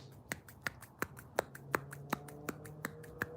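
A single hand snaps its fingers about ten times in an even, quick rhythm, each snap sharp, close and dry against a quiet background.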